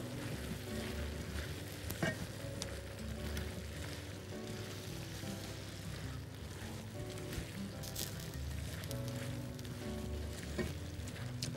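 Meat sizzles steadily in a pan with tomato, red onion and parsley and gets turned over now and then. The frying hiss is dense and continuous, with occasional scrapes from stirring.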